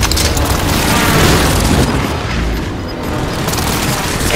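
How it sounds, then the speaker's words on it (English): Allied precision airstrike in Call of Duty: Modern Warfare: a loud, continuous barrage of deep booming explosions and rumbling blasts that overlap without pause. "Allied precision airstrike incoming."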